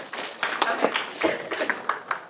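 Scattered clapping from a classroom audience, a short uneven run of hand claps at moderate loudness with a voice mixed in.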